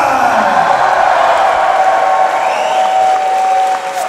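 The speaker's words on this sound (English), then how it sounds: "Stop applauding Bradshaw, for goodness sake." A wrestling show crowd applauds loudly and steadily, with scattered cheers and whoops, while a voice speaks over the dense clapping.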